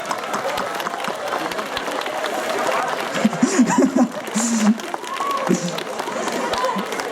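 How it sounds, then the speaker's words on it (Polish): Clapping from an audience at a village community gathering, a dense, steady patter with bits of laughter and murmuring voices rising in the middle, fairly close and sustained. "Wielkie brawa dla naszych"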